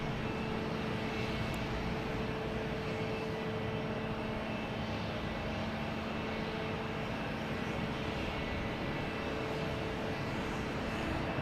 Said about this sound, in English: we got Scandinavian Airlines heading back to Copenhagen